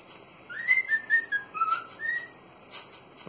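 A pet cockatiel, with a rubber toy close by, whistling a clear, close, warbling phrase of several rising and falling notes, then pausing before a few softer chirps.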